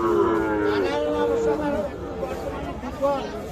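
A Sahiwal bull calf moos in long, drawn-out calls close by while people chatter in the background of a crowded cattle market in cold weather.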